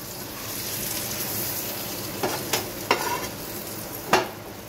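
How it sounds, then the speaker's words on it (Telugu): Bread toasting in butter in a pan, a steady soft sizzle throughout with a few brief sharper crackles and scrapes near the end, close and alone. "సో గైస్ బటర్తో అయితే మీకు ఎన్ని కావాలో అన్ని బ్రెడ్స్ అయితే టోస్ట్ చేసుకోండి"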